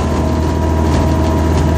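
An X-Air microlight aircraft's engine idles at reduced revs before shutdown, giving a loud, steady low drone and hum close by with no talking.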